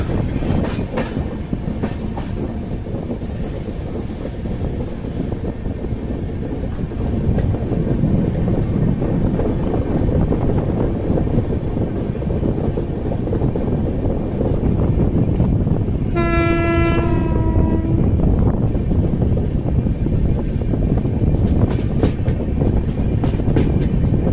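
Train 12546 Karmbhoomi Express departing towards Raxaul: a loud, steady rumble of rolling wheels and car noise with wind buffeting throughout. A brief high whistle sounds early on, and a longer horn blast follows near the middle.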